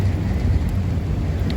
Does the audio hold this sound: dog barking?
no